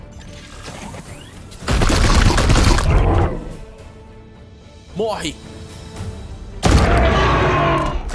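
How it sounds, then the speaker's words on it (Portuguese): Point-blank gunfire from the tabletop-style video game Warhammer 40,000: Chaos Gate – Daemonhunters: two loud broadband bursts of shot and impact, separated by a stretch of quieter game sound, with someone talking around them and a short shout between. "Vamos dar um tiro só nele. Queima-roupa."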